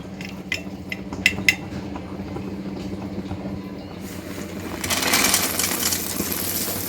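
Set peanut chikki sugar syrup is tapped, giving a few sharp, brittle, close clicks in quick succession. A softer scraping hiss follows afterward.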